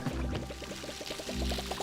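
Water pours in a video game cooking scene, a short steady gurgling stream with a quick rhythmic bubbling texture, lasting under two seconds at moderate volume with no talk.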